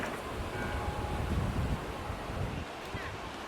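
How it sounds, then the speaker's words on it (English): Steady wind buffets the microphone in a continuous low roar, with no clear voices over it. "It's so windy today."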